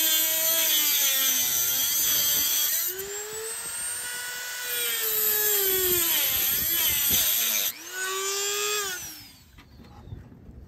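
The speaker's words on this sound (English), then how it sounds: "I'm doing is using the Dremel tool, and I'm just cutting the nut off" A Dremel rotary tool cuts a nut off a stud on a Jandy JXI pool heater manifold, a loud high whine that drops in pitch under load, rises again, then spins down at the end.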